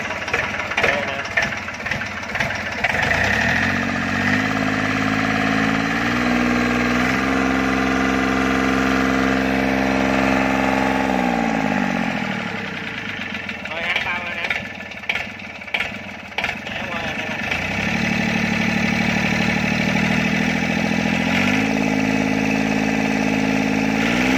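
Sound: 3T84 diesel engine running during a test

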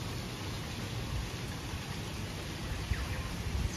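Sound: rain falling

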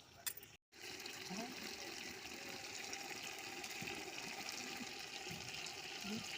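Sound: water poured into mutton curry pot

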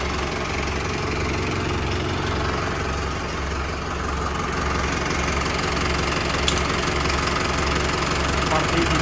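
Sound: tractor engine revving

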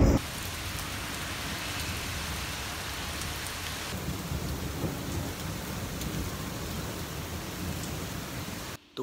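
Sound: rain and thunder outside

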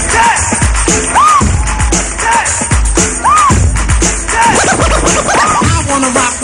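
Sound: DJ performing, scratching records

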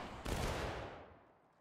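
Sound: rifle volley fired in the video game War of Rights

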